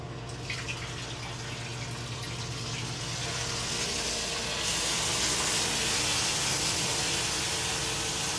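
Water rushes steadily into a bathtub, a continuous close hiss that grows fuller and louder partway through, with a faint low hum underneath.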